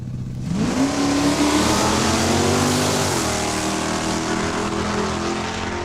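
A convertible 2000 Mustang and a Super Coupe launch in a drag race, engines roaring loudly with a rising pitch sweep as they accelerate, then holding a sustained, dense drone.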